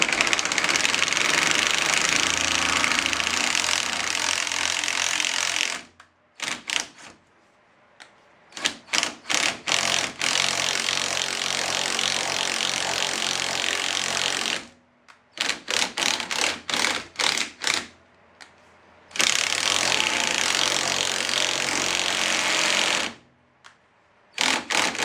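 A 3/8 impact driver hammers loudly in long rattling bursts, stopping briefly between runs with quick stuttering trigger pulses before starting again.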